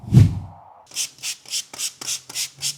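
Brushes scrub a car's wheels in rapid repeated strokes, seven or so short close bristly swishes in an even rhythm after one heavier initial rub, with no voices.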